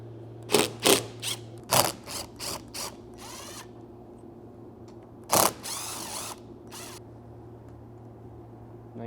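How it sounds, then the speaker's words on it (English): Ratchet with a 12mm socket removing roof rails from a 5th gen Toyota 4Runner, heard as quick bursts of close, sharp clicking with a few longer runs and pauses between them. "you can go ahead and remove the rails with the 12mm socket"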